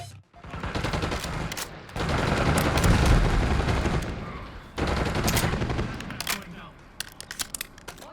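PPSh-41 submachine gun from Call of Duty: Black Ops 6 fires in long, rapid, loud sustained bursts with brief pauses between, while someone talks over the gunfire.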